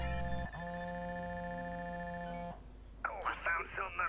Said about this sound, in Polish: Dobra, telefon dzwoni do nas.